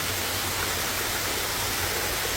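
Waterfall along a slippery trail, a steady dense roar of falling water, close and loud, unbroken throughout with no voices.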